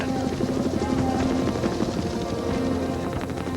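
A steady helicopter rotor drones continuously at moderate distance, with a rhythmic chopping beneath a dense, noisy mechanical roar.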